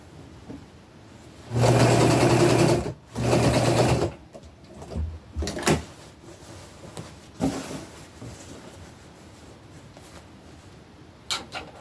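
Sewing machine stitching an upcycled princess dress, two loud bursts of rapid stitching of about a second each, then softer handling clicks and fabric rustles.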